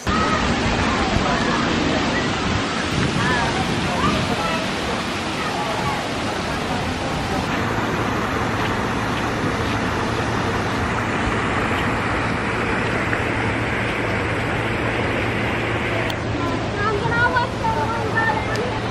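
Rushing water and splashing fill the Cascades area of a water park, a steady broadband wash of falling water with crowd chatter and voices mixed in throughout.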